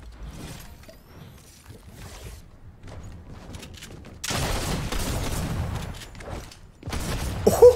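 Anvil Rocket Launcher blowing up a tank in Fortnite, quieter rumbling and scattered impacts at first, then a loud sustained explosive roar with crackling debris, followed by further blasts.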